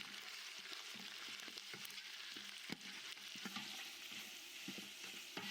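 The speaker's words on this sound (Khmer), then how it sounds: "តមកនេះខ្ញុំដាក់ឆ្អឹងជំនីជ្រូកចូលរួចឆាវាមកបន្តិចសិន" Pork ribs sizzle in a hot pan while a utensil scrapes and clacks irregularly against it as they are stir-fried, close and fairly quiet.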